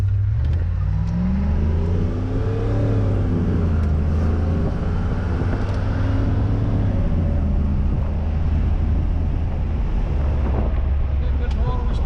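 A 1982 Corvette with a 700R4 four-speed overdrive automatic drives steadily, its engine note rising and falling through throttle and shifts under constant wind buffeting on the microphone.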